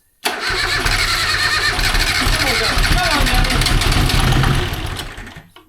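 A Yanmar 3GM30F marine diesel engine cranks and catches, then runs loud and rough with a steady knocking clatter for several seconds before cutting off, with voices in the background.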